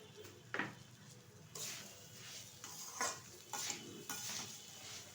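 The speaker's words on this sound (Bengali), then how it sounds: "ভালোভাবে কিন্তু আমি চালটা ভেজে নিচ্ছি" Rice frying in a pan for sweet white pulao, with soft scraping stirs and clinks of a utensil over a quiet background sizzle, strokes coming every second or so.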